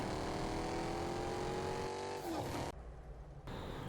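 A car driving in the Fortnite video game, a steady engine drone with a rising pitch that cuts off abruptly into a quieter, muffled stretch, no voices.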